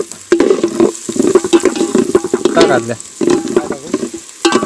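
Onions being sautéed in a pan for Malvani tambda rassa, loud close stirring and scraping in uneven bursts over a constant sizzle, with a short word spoken partway through.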